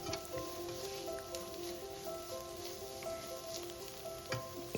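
Pepper and fennel powder fry on a low flame for a Kerala-style mutton stew, a soft continuous sizzle with occasional scraping stirs, quiet and close.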